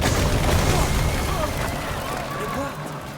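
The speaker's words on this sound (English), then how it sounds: "We use a ballista, and Lucas attaches Stupefacio to the tip to cause an explosion." A ballista bolt tipped with Stupefacio explodes in A Plague Tale: Requiem, a loud rumbling boom that decays over about three seconds under a dense wash of game ambience and crackling debris.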